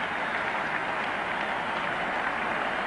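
Spectators at the 1976 Gillette Cup cricket final between Lancashire and Northamptonshire applaud a six, the clapping a steady, hissing patter that sounds distant and faint across the ground.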